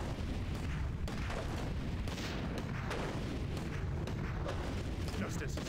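A mortar team fires in a Warcraft 3 battle, with repeated booming blasts over dense, continuous battle noise, loud and close, while a voice talks underneath.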